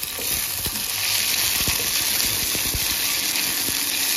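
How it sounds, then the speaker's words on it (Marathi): Finely chopped tomato sizzles and fries with onions in a hot pan, a steady close hiss broken by occasional stirring clicks and scrapes, with no voices. "लगेच त्याच्यात आपण बारीक केलेला टोमॅटो घालायचा आणि तो पण परतायचा."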